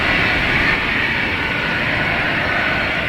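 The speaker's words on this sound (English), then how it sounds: "Looks like Delta Connection coming in from Richmond." A Delta Connection airliner arrives at Boston Logan Airport, a steady, fairly loud jet roar holding evenly across the short stretch without pause.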